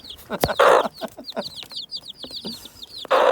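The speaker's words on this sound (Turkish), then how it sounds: "Dünya tarihinde ilk kameraya saldıran, telefona saldıran tavuk" A bald hen clucks close by in quick, uneven bursts, with sharp rustling noises and short chirpy calls in between, as it pecks at the camera protecting its chicks.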